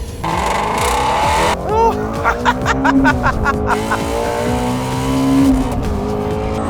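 A Ford Mustang GT engine, a 2017 model, revs hard through fast gear changes near 8,250 RPM, its loud rising and falling whine continuous for the full stretch with a brief spoken exclamation over it.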